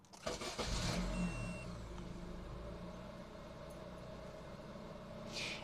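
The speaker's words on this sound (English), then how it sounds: "so we're gonna start the car right now" A car engine cranks and catches with an ANCEL BS200 jump starter attached, then settles into a steady idle rumble, close by with no talking.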